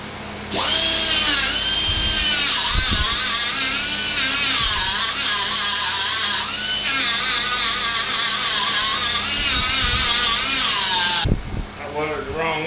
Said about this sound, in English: So now what I need to do is bevel. Okay. Bevel these pieces back.